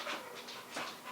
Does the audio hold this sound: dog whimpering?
yes